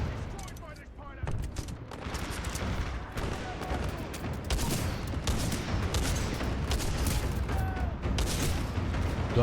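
Rapid gunfire from a two-barrel sniper rifle in the video game Titanfall, with sharp repeated shots and booms over a dense, busy battle mix, loud and continuous throughout.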